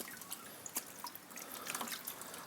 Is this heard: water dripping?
yes